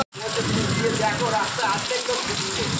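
Steady heavy rain pours down, a dense continuous hiss of drops drumming on surfaces, close and loud throughout.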